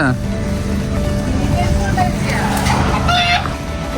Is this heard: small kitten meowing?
no